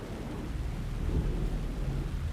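Steady rain pours with low rolling thunder rumbling beneath it, a dense continuous storm wash from the Alan Wake 2 video game, with no voices heard.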